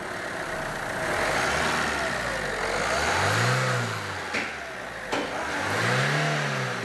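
A Renault Clio 3 with the 1.5 dCi diesel engine runs steadily after an oil service, its close, loud drone swelling twice in brief revs before settling back.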